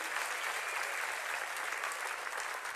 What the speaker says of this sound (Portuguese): Dá uma salva de palmas para esse povo